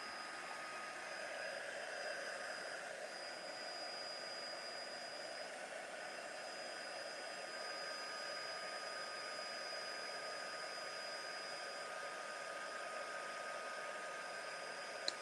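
Steady, close hair dryer blowing air over a wet painted mermaid canvas during a craft class, a constant even whoosh with no pauses or talk.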